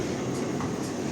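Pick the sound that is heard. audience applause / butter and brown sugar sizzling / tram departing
tram departing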